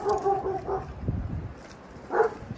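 A dog barks a few times at moderate distance on a windy day, short sharp yaps with gaps between them over a rough, gusty background.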